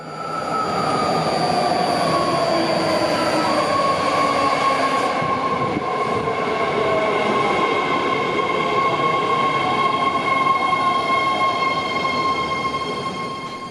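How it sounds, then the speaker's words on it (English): A northbound BART Green Line train bound for Daly City pulls in, its loud steady rumble carrying high sustained wheel squeals and whining tones that slide and shift as it arrives at a crowded platform, with no voices. "another northbound train was coming up from right behind me, also on the Green Line, heading across the bay over to Daly City"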